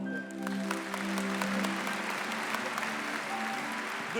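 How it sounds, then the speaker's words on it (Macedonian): Sustained applause from an audience at the Zlatna Bubamara 2023 awards ceremony, a dense steady clapping that fills the hall for several seconds with faint musical tones and crowd murmur underneath. "Аплауз."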